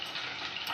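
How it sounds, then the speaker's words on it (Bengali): Cumin seeds fry in a kadai while a drumstick-leaf bharta is being made. The sizzle is brief, close and steady, with a hissy crackle and no voices. "জিরাটা ভেজে নেব,"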